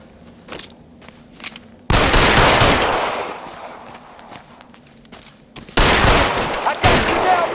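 Gunfire in an L.A. Noire shootout: sporadic single shots early, then a sustained loud burst of rapid fire, a pause with a few shots, and another heavy volley near the end, all close and dense.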